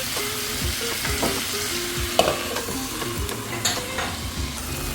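Chicken roast gravy stirred and mixed in a pan, a continuous sizzle with repeated scrapes and clinks of the spoon against the pan, close and fairly loud.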